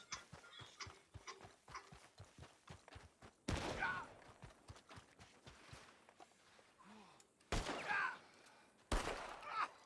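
Gunfire in the Red Dead Redemption 2 Online video game: three loud, sharp bursts spaced a few seconds apart, following a run of rhythmic hoof clip-clops, with voices talking in between.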